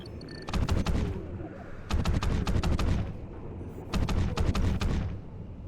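Bursts of automatic gunfire in the video game Call of Duty: Ghosts, three sustained volleys of rapid shots about a second each, loud and close, with brief pauses between.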